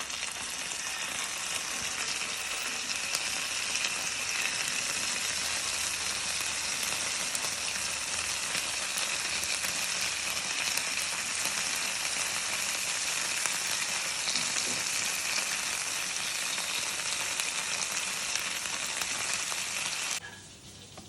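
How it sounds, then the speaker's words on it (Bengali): Chicken sizzles steadily in a pan of butter and a little oil, a loud, dense, continuous frying hiss that holds evenly for about twenty seconds before dropping away abruptly at the end. "যতক্ষণ চিকেনটা গ্রিল হচ্ছে"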